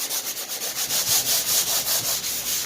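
Drywall joint compound over a patched wall hole is sanded with quick back-and-forth hand strokes, a close, rhythmic scratchy rasp repeating steadily about five times a second with no talking.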